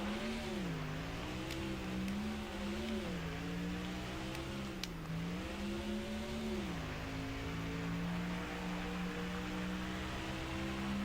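Race car engine in NASCAR Thunder 2004 drones steadily throughout, its pitch swelling and dipping with throttle changes, loud and continuous with no talk.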